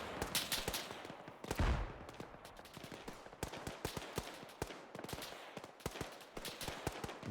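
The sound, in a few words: gunfire in video game Arma 3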